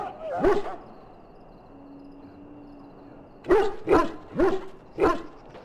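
A dog barks in Dragon Age: Origins. There is one bark, then a pause over a low ambient hum, then four evenly spaced barks. They are fairly close and clear, with no talking.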